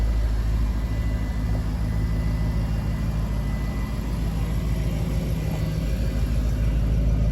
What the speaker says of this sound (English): 5-liter V8 supercharged, so definitely a blast to drive